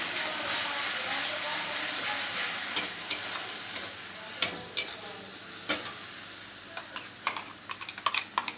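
Grated radish paste hits hot oil and sizzles with a steady hiss, broken by sharp crackles and pops that grow more frequent toward the end, with no talking over it.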